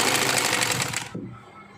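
A sewing machine stitches lace onto a trouser along the crease line, running in a steady, close, continuous burr for about a second before stopping abruptly.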